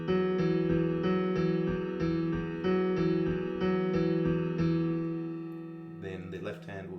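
Piano plays the E-chord riff, a steady pulse of repeated notes over a held low E, ringing clearly and alone before fading, with a brief brighter flourish at the end.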